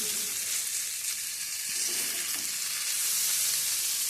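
Onion, tomato and green chilies frying in a pan give a steady, close hiss of sizzling oil, with a few soft scrapes as they are stirred.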